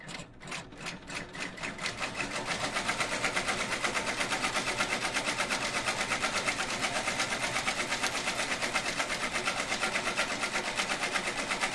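A multi-needle embroidery machine stitches out a small composition book cover design, running a fast, steady, rhythmic clatter up close that builds over the first two seconds and then holds evenly with no voices.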